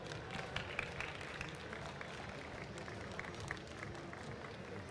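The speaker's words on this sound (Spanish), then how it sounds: "Un aplauso, por favor" Steady applause from an audience at a conference talk on future cities fills the whole stretch, a continuous dense patter of clapping at moderate level with no clear break.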